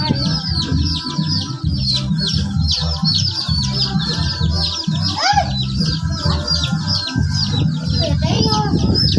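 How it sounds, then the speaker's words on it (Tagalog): Baby chicks peep in high, rapid chirps almost nonstop, while people talk loudly nearby and steady low background noise runs underneath. "Nahilo na yung sisiw mo, Kawa."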